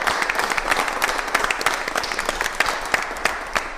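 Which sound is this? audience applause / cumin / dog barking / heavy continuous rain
audience applause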